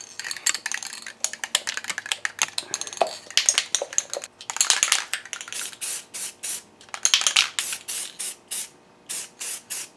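Spray paint is applied to a wooden whirligig turkey in repeated short hissing bursts, close and fairly loud, with brief gaps and light clicks between them and no talking.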